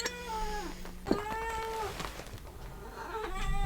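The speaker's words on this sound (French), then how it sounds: "Oui, mon chat poilu." A furry pet cat meows repeatedly up close in a quiet room, with long drawn-out, wavering cries, a few short sharp calls, and a final meow trailing off at the end.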